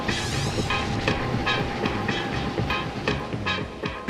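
An airport express train rolls steadily along the rails, giving a continuous loud rumble with rhythmic clickety-clack from the wheels and a faint hiss, with no voices.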